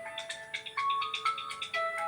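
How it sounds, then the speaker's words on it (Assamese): A mobile phone ringtone plays nearby, a bright electronic melody of short repeating tones that rings clearly on its own indoors. "আপোনাৰ ফোনটো বৰকৈ আহি আছে"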